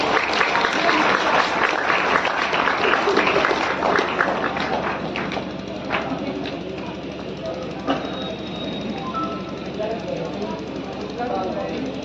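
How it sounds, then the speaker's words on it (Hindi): Audience applause at a school award program in Sarai Akil, Kaushambi, honoring shortlisted top students, a dense sustained clatter of many hands lasting throughout, steady and fairly loud with some background noise. "आप तालियों से इनका उत्साह जरूर बढ़ाइए"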